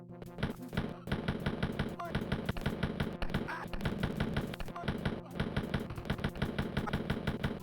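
Rapid automatic gunfire in Wolfenstein 3D during the final boss fight against General Fettgesicht, a dense, loud, continuous rattle of shots with brief gaps, running without pause for several seconds.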